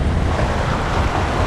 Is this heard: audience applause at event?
no